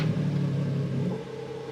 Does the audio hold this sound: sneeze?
no